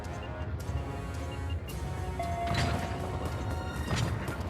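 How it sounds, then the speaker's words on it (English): Something heavy crashes and slams against stone walls while giving chase down a dark, collapsing passage in the video game Utawarerumono: Mask of Truth. Dense, continuous rumbling clatter with a few sharper impacts, fairly steady and moderately loud throughout. "I can hear something crashing behind us, slamming into the walls as it pursues"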